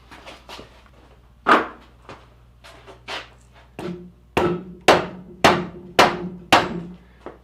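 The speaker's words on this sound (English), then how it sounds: "Got a mallet this time. Softer on it." A mallet taps on the cylinder head of a Volvo V70R 2.3T engine during head removal: irregular knocks at first, then a run of about eight evenly spaced solid thuds, close and loud.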